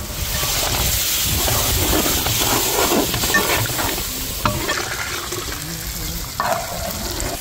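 Ground masala frying with ginger and garlic for a tikka fish masala gravy, stirred in the pan: loud continuous sizzle and scraping stir with occasional clinks, steady throughout.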